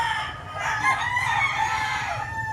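A bull stag rooster crows loud and close at a busy chicken market in Batangas, one long drawn-out call with faint clucking from other fowl in the background.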